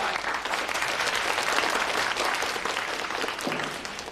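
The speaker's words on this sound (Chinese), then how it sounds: "鼓掌，鼓掌！" Sustained applause from a gathered crowd in a small restaurant, steady dense clapping at close range that carries on for several seconds without a break.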